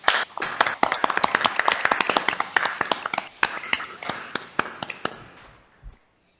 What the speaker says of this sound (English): So let's all clap for them.